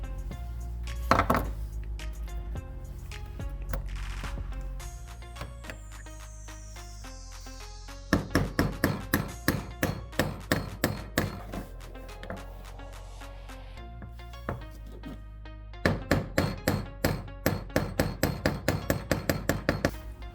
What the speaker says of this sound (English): seated the roller bearing and shaft seal with some light taps of a hammer